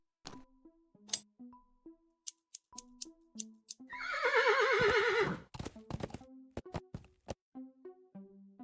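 In the adventure game Willy Morgan and the Curse of Bone Town, a horse gives a loud drawn-out whinny in the middle, surrounded by scattered hoof clip-clops and short game sound effects.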